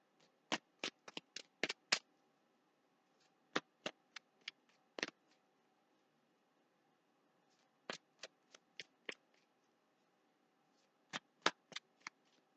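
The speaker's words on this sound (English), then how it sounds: "Okay, let's get our last two cards out." Tarot cards are shuffled close up in a quiet room, sharp papery riffles and slaps in quick bursts, separated by short pauses.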